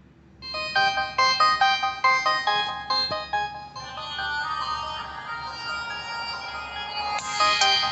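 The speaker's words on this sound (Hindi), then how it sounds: "मतलब आप आपके ही वॉच के ऊपर म्यूजिक वगैरह भी सुन सकते हो, तो इसका भी डेमो आप देख लो।" Music plays from the small built-in speaker of a Fire Boltt Ring Plus smartwatch: a thin, bright chiming melody of rhythmic plucked notes that turns into a sustained tinny passage, fairly quiet and heard alone.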